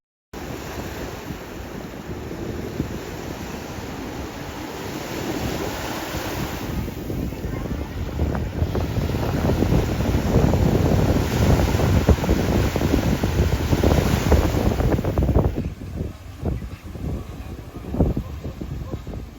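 Waves break and wash onto the beach at Punta Cana, heard as a continuous roar of surf that swells in the middle, mixed with heavy wind buffeting the microphone.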